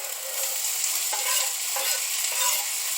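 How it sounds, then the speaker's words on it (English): Food, including onions, sizzles steadily in a hot frying pan for turkey bean and cheese burritos, a continuous crackling hiss close up, with a few soft clinks of a utensil. "There we go, sizzling away."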